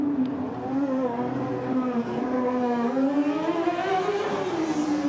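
An unsilenced, blown-up Formula Student race car engine drones steadily past, its rough buzzing note rising and falling slightly as it holds revs at a distance.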